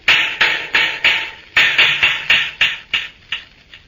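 Sharp metallic taps on steel plates, about a dozen evenly paced ringing strikes from a wrench and pliers, close and loud with no talk.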